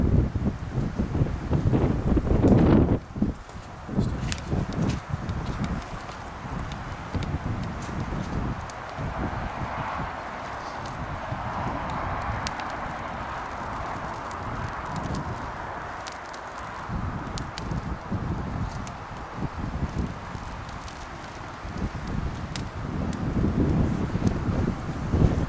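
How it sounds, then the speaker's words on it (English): Wind buffets the microphone in a continuous rumbling roar, gusting stronger at the start and end, with faint rustling underneath. "Hasn't been windy all day until now."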